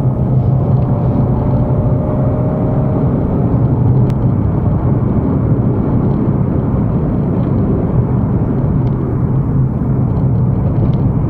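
White Renault Clio 2 driving on an open road at moderate speed, a steady engine drone with low road rumble heard from inside the car, continuous and fairly loud.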